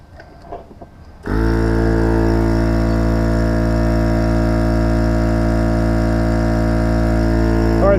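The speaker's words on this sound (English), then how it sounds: "now we're going to try the cigarette output to refill this tire with my tire pump" A small tire pump running off an AUTOGEN 4000A jump starter's cigarette output kicks on after a quiet moment and drones loudly and steadily, a constant buzzing motor hum close by with no talk.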